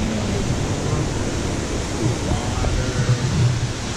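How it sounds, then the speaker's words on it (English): A waterfall gives off a steady broadband rush of falling water, loud and continuous, with some wind-like hiss and faint voices underneath. "There's a waterfall."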